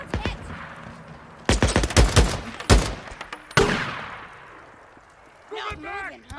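Gunfire in the video game Days Gone: a volley of sharp, loud shots in rapid bursts, one heavy blast trailing into a decaying rumble, then quieter shuffling with a voice-like sound near the end.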